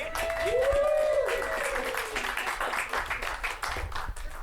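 An improv comedy audience applauds a performer, a full burst of clapping with cheers and a whoop near the start, continuing steadily to the end.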